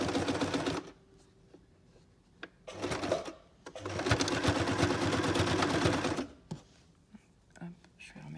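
A domestic sewing machine stitches fabric for pets in bursts of fast, rhythmic needle chatter, with short pauses and quiet handling sounds between runs, close and clear.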